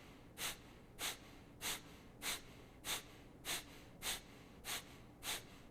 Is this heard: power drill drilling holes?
no